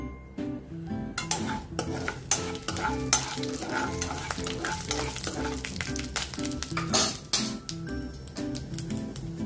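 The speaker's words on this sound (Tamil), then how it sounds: "இப்ப எண்ணெய் காஞ்சிருச்சு, கடுகு போடுவோம்." Mustard seeds hit about two spoons of hot oil in a pan, a loud continuous crackling sizzle with sharp popping bursts throughout, close and steady with no talking.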